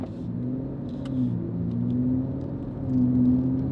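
A 2019 BMW M5 Competition with Armytrix downpipes cruising in efficient comfort mode, a low steady engine rumble that swells gently at times.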